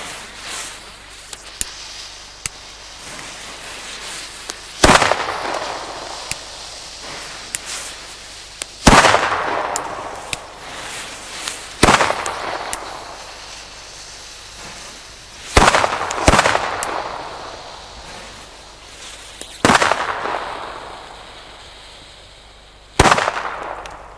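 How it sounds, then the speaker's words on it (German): Booster firecrackers from a newer batch with shiny wrapping set off around New Year's Eve, about seven sharp loud bangs spaced a few seconds apart, each trailing into echo and crackle outdoors. "jetzt folgen Booster-Böller aus der aktuelleren Charge mit der glänzenden Farnarole"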